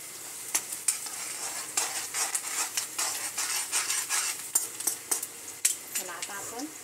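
Noodles stirred in a frying pan with a metal utensil give a steady run of scraping clacks and light taps against the pan, close and moderately loud over a soft sizzle.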